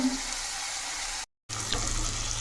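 Tomato and chilli masala sautéing in a home kitchen pan, a steady soft sizzle with a brief gap midway, then continuing slightly fuller and louder.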